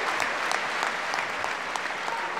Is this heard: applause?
yes